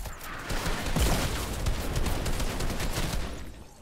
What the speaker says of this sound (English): I literally shot at you so many more times than you shot at me